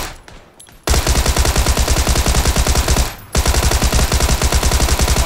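A Tommy gun fired full auto in PUBG, delivering two long, loud, rapid bursts of closely spaced shots, separated by a brief pause, close and dominant with no other sounds.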